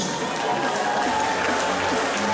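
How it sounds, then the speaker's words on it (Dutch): A crowd at a House of Pain fight event applauds two fighters, sustained and fairly loud over a continuous hum of crowd noise. "Dames en heren, mag een applaus voor deze twee strijders?"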